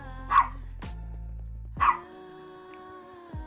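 Dog named Lizzie giving two sharp barks about a second and a half apart, close and fairly loud, with a steady low hum and faint tones running underneath.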